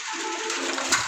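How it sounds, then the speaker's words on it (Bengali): A male pigeon, a coloured Raj Gulla breed, coos nearby over a steady background hiss, with a short soft sound near the end. "এই যে এরকম এই যে একটা কবুতর দেখতে পাচ্ছেন, এটা মূলত নর কবুতর হবে।"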